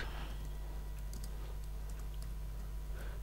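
Light, scattered clicks of a computer keyboard as code is typed, faint and uneven taps over a steady low electrical hum.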